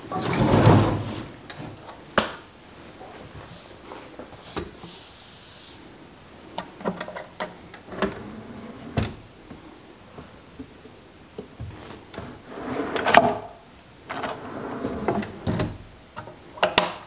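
A drawer slides into a Goose Gear camp kitchen built with custom extrusions, giving scattered clicks, knocks and short sliding scrapes with a louder thump near the start and another near the end, in a quiet setting.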